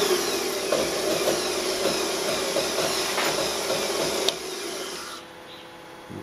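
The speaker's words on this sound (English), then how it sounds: "Quick deburr." Quick hand deburring of a small machined metal part that will take a press-fit brass end, a steady scraping hiss close by with no talk, stopping abruptly partway and leaving quieter background noise.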